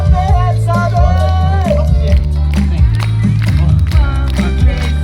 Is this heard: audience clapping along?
yes